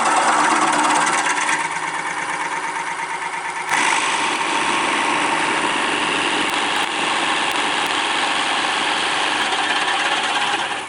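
A drill press spins a 1.5-inch Forstner bit at about 500 RPM, boring into wood. A steady, loud motor whine and cutting drone runs throughout, with a brief dip in level before picking back up.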